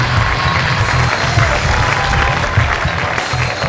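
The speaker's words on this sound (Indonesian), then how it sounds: "beri tepuk tangan yang meriah sekali untuk 5 besar Element of the Year" A dense audience at a male pageant grand final applauds steadily, with continuous clapping and some crowd noise throughout.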